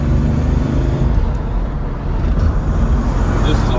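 A 1965 Chevrolet Corvette Stingray on the road, its engine and road roar a steady, loud, broadband rumble close by, continuous throughout with no voices over it.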